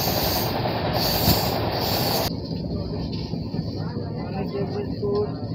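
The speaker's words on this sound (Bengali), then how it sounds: "সামনে রয়েছে ওয়াপ 7, যার জন্য আমাদের এই ট্রেনের ম্যাক্সিমাম স্পিড হচ্ছে 130, তো এখন 120-তে চলছে" The Chennai Mail passenger train, hauled by a WAP-7 locomotive, runs at about 120 km/h, giving a steady onboard rumble and rail noise. The sound shifts abruptly to a duller, more muffled tone partway through, with faint wheel squeal and possible voices underneath.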